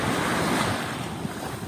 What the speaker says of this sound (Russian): Обалденное море.